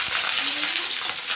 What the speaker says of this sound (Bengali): তেল গরম হয়ে গেছে, এখন আমি রসুন আর লঙ্কাগুলো দিয়ে দিলাম